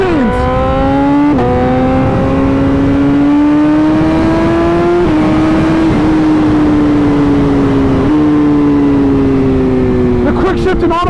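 A 2013 BMW HP4 sport motorcycle accelerates hard along leaf-covered city streets, its engine whining up through several quick gear shifts, loud and close with wind rush throughout.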